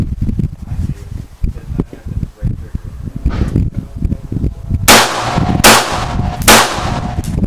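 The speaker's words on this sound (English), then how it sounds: "So let's fire and see how it feels." An AR-15 rifle built as a tribute to the M16 fires three loud, sharp shots about a second apart, each a crisp crack that stands out against low rustling background noise.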